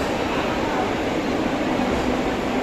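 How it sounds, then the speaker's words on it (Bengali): A train pulling out of a station in Nepal, a steady loud broadband rumble of wagons and wheels with no distinct clacks, continuous throughout. "ফাইনালি ট্রেনটা ছেড়ে দিয়েছে তাড়াতাড়ি"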